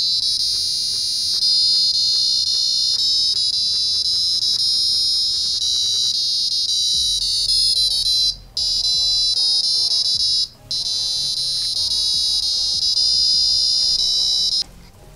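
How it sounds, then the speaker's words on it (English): A piezo buzzer on a DIY watermelon-shaped Arduino PCB board plays a continuous shrill electronic tune of sustained high tones. It is loud and close, with two brief gaps. "this Watermelon Arduino board that was a piezo song"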